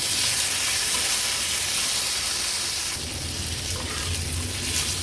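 Steady close sizzle and hiss from food being sautéed over a high flame, the pan hissing continuously without pause, with a slightly fuller, lower frying rumble in the second half.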